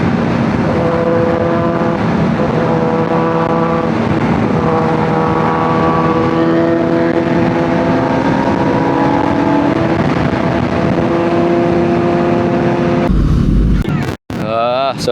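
A Kawasaki ZX10R superbike with a race-fit exhaust roars through the Kanchanagiri hills, a loud, sustained droning note with wind buffeting that holds for about thirteen seconds before breaking off abruptly.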